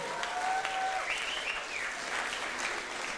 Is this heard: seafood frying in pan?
no